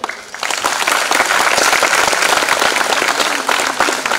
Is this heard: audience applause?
yes